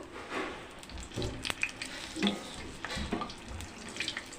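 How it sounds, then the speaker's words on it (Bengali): Ripe jackfruit poa pitha fries in hot oil over a medium flame, giving a fairly quiet, uneven crackle broken by a few clicks and small bursts of sputter. "চুলার জালটাকে মিডিয়ামে রেখে আমি এইভাবে ভাজবো"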